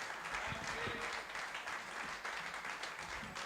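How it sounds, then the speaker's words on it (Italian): Audience applause at a live evening event, a dense continuous wash of clapping that holds steady for the whole stretch and carries some faint voices underneath. "applauso"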